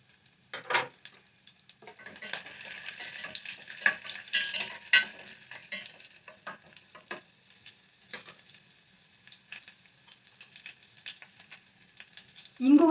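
Curry leaves dropped into hot oil for a tempering for a gongura prawn curry, giving a bright crackling sizzle that flares early and then settles into faint spitting, with a brief louder knock at the end.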